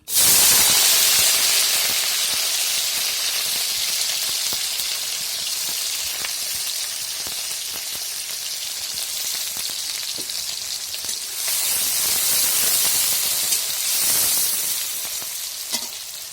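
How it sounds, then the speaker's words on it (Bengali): Chopped onions frying in oil in a wok give a steady, loud, close sizzle that runs the whole time, swelling briefly near the end, with no voices. "পেঁয়াজগুলি আমার ভাজা হয়ে গেছে"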